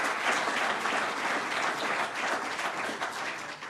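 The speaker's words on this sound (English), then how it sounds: "So please let us give a round of applause." Applause for two members of Congress at a New York governor's announcement, a steady wash of clapping from a crowd, fairly faint and even throughout.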